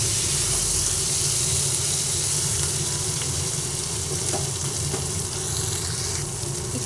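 Onion and tomato fry together in a pan for a Bengali fish curry, giving a continuous soft sizzle and hiss with faint stirring scrapes, steady and close.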